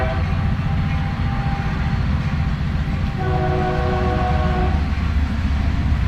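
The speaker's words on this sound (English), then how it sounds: "Check out that train." A train rolls past loudly with a continuous heavy rumble, and its horn sounds in sustained tonal blasts, one near the start and a longer one midway.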